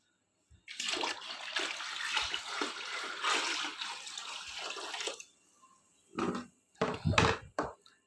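Well water pouring into a 7-liter container, a continuous splashing rush for several seconds that then stops, followed by a few brief bursts of pouring or sloshing.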